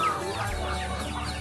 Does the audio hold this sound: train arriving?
no